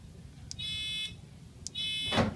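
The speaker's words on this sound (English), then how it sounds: "We've got a buzzer." Two short electric buzzes from a doorbell buzzer, each about half a second long, separated by a brief pause, sharp and close.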